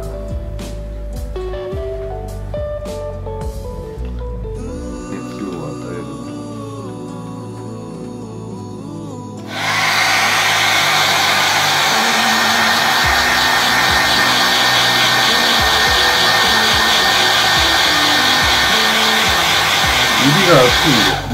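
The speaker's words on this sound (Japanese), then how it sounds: "ドライヤーで" Hair dryer switching on and blowing steadily and loudly at close range onto a decal on a Unicorn Gundam Gunpla model part, after a stretch of quieter tapping and handling sounds.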